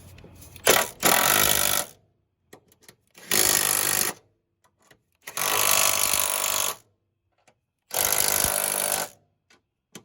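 An impact tool with a 13 mm socket tightens the top strut hardware on a Nissan Sentra, whirring and hammering in four loud bursts of a second or two each, separated by short quiet pauses.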